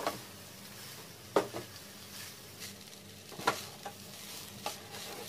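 Cheesy bell pepper rice is stirred in a pan, a soft background hiss broken by several distinct scraping and tapping knocks of a spoon against the metal, close and fairly quiet.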